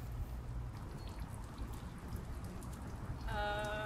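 Steady rain pours outdoors, a dense continuous hiss of drops with a brief tonal sound near the end.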